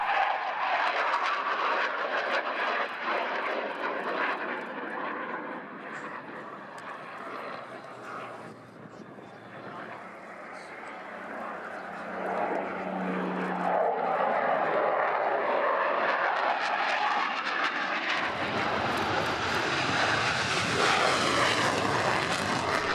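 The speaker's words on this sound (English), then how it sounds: "This unique and superbly flown Synchro Pair display of Typhoon and Spitfire commemorates the 75th anniversary of the Battle of Britain" Royal International Air Tattoo 2015 synchro pair display of a Typhoon jet and a Spitfire passing overhead, giving a loud sustained engine roar that swells and fades and then surges again near the end.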